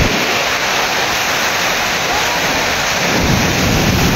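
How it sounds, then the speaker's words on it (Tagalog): Strong sea waves pound a beach in a loud, continuous roar of broadband surf, with a heavier rumbling swell building near the end. "pagkalakas ng mga alon"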